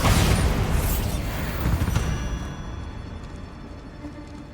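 A spell explosion in the fantasy game Hogwarts Legacy bursts loudly at the start, then its rumble trails off into a lingering hiss and echo, with no voices.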